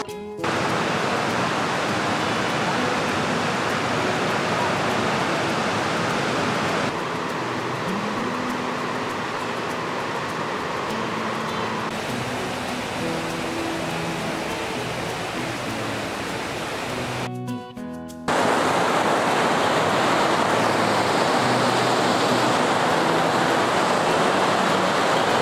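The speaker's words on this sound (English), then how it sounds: "Nice flowing water around here." A rushing river runs with a loud, steady broadband roar of flowing water, unbroken apart from a brief dip partway through, with no voices.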